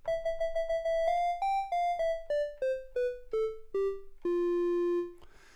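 A Commodore 64 preset on the WoodSynth iOS synthesizer, sounding a bright, chiming sequence of about thirteen separate notes that step downward in pitch, ending on one longer held tone, played alone.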